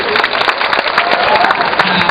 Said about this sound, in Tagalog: Hindi po, palakpak muna po.